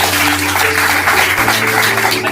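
An audience at a health tea product seminar breaks into loud, sustained applause, a dense wash of clapping that fills the whole stretch over a low steady hum.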